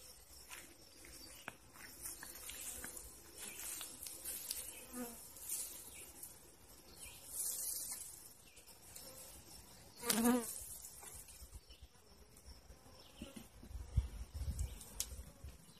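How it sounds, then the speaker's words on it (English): A dense, continuous buzz of many bees at close range, fairly faint and steady, with one louder bee droning past midway. "all of those crevices up until here, up here, are packed full of bees"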